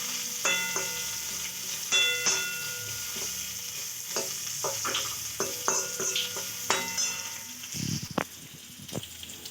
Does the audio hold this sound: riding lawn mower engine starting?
no